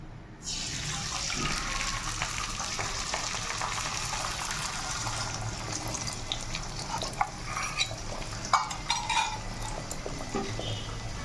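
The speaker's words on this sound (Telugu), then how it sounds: "తర్వాత మనం బీట్ చేసుకున్న ఎగ్స్ ఉన్నాయి కదా, ఇవి కూడా ఇందులో వేసుకోవాలన్నమాట" Beaten eggs hit hot oil in a pan for egg fried rice, bursting into a loud, steady, close sizzle that holds throughout, with a few light clicks of a utensil near the end.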